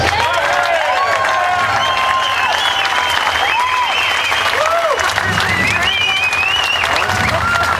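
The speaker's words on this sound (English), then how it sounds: "a great big round of applause, please" A crowd at a 9/11 memorial ride rally claps loudly and steadily throughout, a dense, sustained wash of applause with a few scattered whistles and faint voices mixed in.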